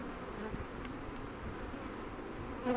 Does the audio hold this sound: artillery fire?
no